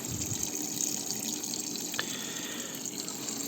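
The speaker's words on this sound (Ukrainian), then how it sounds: "У бочці стоїть насос, який качає воду у ці зелені трубки." A pump in a water barrel pushes water through green hydroponic pipes in a basement garage, giving a steady trickling, splashing flow over a faint hum, continuous and moderately quiet.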